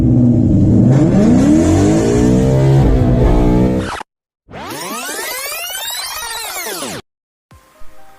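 A car launches from a standstill with a loud engine rev that climbs steadily in pitch as it accelerates. It cuts off abruptly, and then a second surge of rising and falling engine tone follows after a short gap.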